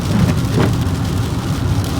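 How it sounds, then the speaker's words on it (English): Rain falls steadily at a fishing spot, a dense even hiss with low rumbling underneath, continuous and fairly loud with no talking. "As y'all can see, it's raining."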